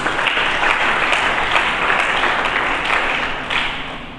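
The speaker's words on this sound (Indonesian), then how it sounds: "Berikan tepuk tangan dulu bagi Yesus." A church congregation during an Indonesian worship service claps together, dense loud applause filling the room and sustained evenly before tapering slightly at the end.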